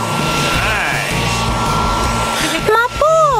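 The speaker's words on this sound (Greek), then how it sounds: "Ανεμιστήρας. Θα με βοηθήσει." Electric fan blowing air close by to cool a hot cake in a kitchen, a loud steady whooshing drone that continues throughout, with a brief dip and a few bright tonal sweeps near the end.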